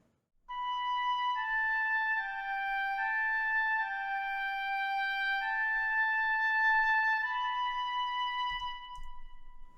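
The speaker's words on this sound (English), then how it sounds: "Then, as is common, doubled by the oboe." A sustained woodwind line of flutes doubled by oboe plays a slow, smooth melody in held notes, an orchestral mockup, alone and clear, with no talking.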